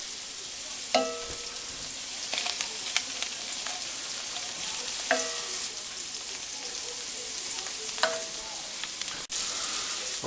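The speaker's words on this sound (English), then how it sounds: "I'm going to brown a little bit of butter, put a little brown on it" Butter browning in a pan with chicken tomatillo stew gives a steady fizzing sizzle, broken by a few soft clinks and scrapes of stirring spread across the pan.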